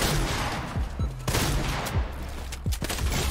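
Heavy shotgun in Fortnite Arena firing repeatedly, several punchy low blasts landing about every half second amid constant busy game noise, close and loud with no talking.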